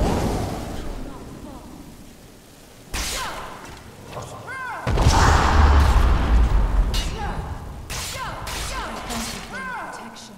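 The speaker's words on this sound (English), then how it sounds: "I think it's time to fire breath." A dragon-shout fire breath in the video game Skyrim, a sudden loud rushing blast that swells into a heavy roaring burst with crashing impacts, heard after quieter game sounds.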